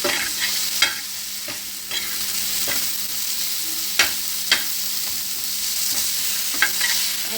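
Spiced gram-flour pitla (zunka) is stirred and turned on a tava, with a steady sizzle and scattered clinks of the spoon against the metal pan every second or so.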